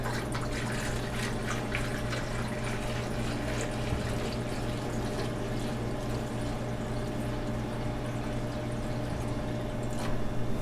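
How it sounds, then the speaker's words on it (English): Water poured into the base tray of a bread proofer, a steady soft splashing and trickle under a constant low mechanical hum, fairly quiet and continuous with no talking. "we're going to fill the bottom here with our water"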